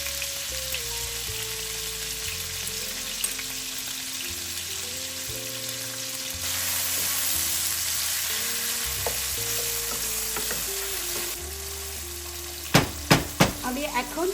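Chopped onion, green chili and tomato fry in a pan, making a continuous close sizzle and occasional stirring, with music playing underneath and a few sharp knocks near the end.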